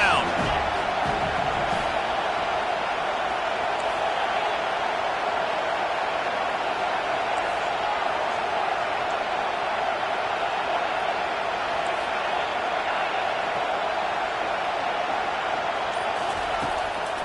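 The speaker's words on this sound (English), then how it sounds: "Decibels rising as the crowd gets behind this defense on third down." Steady roar of a packed stadium crowd at a UGA vs USC college football game, loud and continuous as fans get behind the defense on third down.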